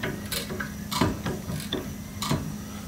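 A hand pump on an off-grid live steam engine boiler works in repeated strokes, each giving metallic clicks and clanks in an irregular rhythm over a steady low background. There is no talking.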